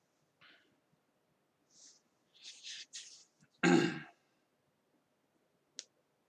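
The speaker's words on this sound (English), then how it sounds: "You can hear all my mouse clicks," Computer mouse clicks at a streaming desk, a few sparse, faint, isolated clicks with long quiet gaps, plus a louder breathy snort-like burst in the middle; no talking.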